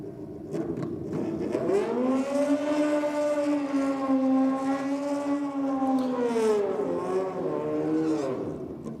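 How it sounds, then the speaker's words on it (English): Suzuki Hayabusa motorcycle doing a burnout at a drag strip, a loud sustained engine wail held at high revs for several seconds, pitch rising, holding steady, then dipping and climbing again near the end. "Classic Hayabusa burnout down there."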